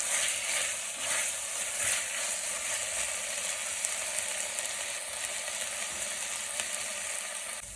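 Minced garlic and onion sizzle and fry steadily in a pan over very low heat, a continuous close crackle with faint stirring scrapes and no talking.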